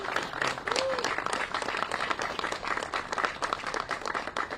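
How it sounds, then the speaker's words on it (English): A crowd applauds steadily at a mayor's civic meeting on Providence's comprehensive plan, dense clapping filling the whole stretch at an even, moderately loud level with no talking over it. "We can give Bob a round of applause"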